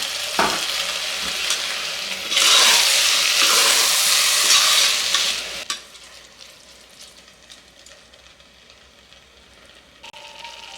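Onion masala frying for egg biryani with yogurt added, a loud hissing sizzle that swells as the yogurt goes in, then drops abruptly to a quiet low bubbling with occasional faint clinks.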